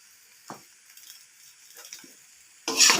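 Ramen noodles being stirred in a frying pan: a few soft scrapes and faint sizzling, then a loud burst of hissing frying near the end.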